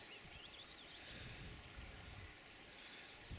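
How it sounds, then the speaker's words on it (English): The River Yore at Middleham runs low over spawning gravels, still coloured after rain, giving a steady broadband rush and gurgle of flowing water with no voices. "I just come up to the River Yore"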